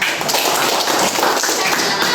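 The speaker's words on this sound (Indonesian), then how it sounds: "Oke, tepuk tangan semua." Schoolchildren clapping their hands together in a classroom lesson, a loud, close, continuous patter of many small hands with voices mixed underneath.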